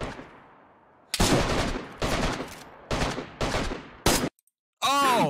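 Bursts of gunfire in the survival video game DayZ, several loud separate volleys of rapid shots over a few seconds, a short silent gap, then a final burst with a ringing tone.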